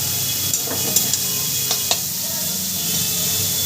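Vegetables that were fried earlier are stirred in a sizzling pan, a steady close frying hiss broken by a few sharp scrapes and clinks of the spoon against the pan.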